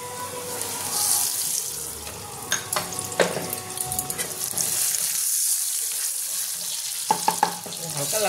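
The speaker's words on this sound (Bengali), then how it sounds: "আলুটা হালকা ভেজে নেব" Potato pieces fry lightly in oil with cumin, a close sizzling hiss with stirring clatter and a few sharp utensil knocks, easing off midway before brief clinks return.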